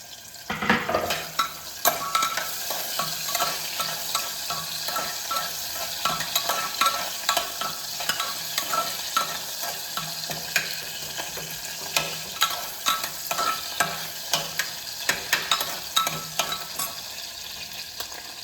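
Chopped onion sizzling with cumin seeds in a hot pan while a spoon stirs it, a steady crackling fry with scraping strokes throughout, close and moderately quiet.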